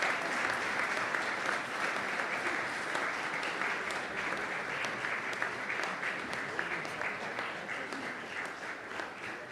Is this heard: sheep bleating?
no